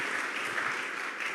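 A church congregation claps together, a dense, steady wash of applause filling the room for the whole short stretch.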